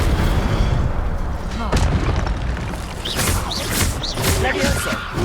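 Incendio fire spell cast in the Hogwarts Legacy video game, heavy booming bursts and whooshing blasts layered over a dense, loud game soundscape with several sharp magical impacts in quick succession.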